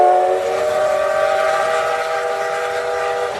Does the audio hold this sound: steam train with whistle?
yes